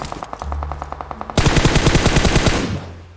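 Rapid automatic gunfire in a shooting video game, a burst of evenly spaced shots followed by a louder, denser stream of fire that cuts off near the end.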